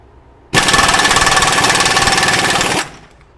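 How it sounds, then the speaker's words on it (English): A Myers MTS53371 air impact wrench running in reverse at an 800 foot-pound setting hammers in one loud, close, rapid burst lasting about two seconds, then cuts off sharply. "In reverse, we're going to start back at 800 foot-pounds"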